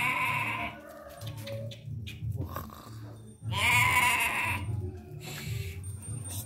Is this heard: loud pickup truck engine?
no